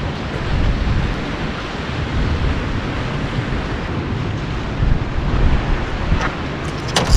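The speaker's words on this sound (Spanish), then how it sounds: "como hay mucho viento y hay mucho oleaje" Strong wind and rough ocean surf at a fishing spot at Punta Lara, a loud continuous roar of buffeting wind over breaking waves, with gusts rising and falling and no voices.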